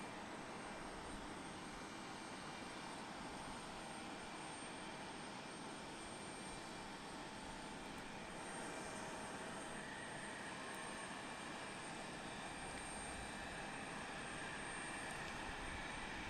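Prime Air jet airplane at Portland International Airport, a faint, distant, sustained broadband jet roar that holds steady throughout with no voices.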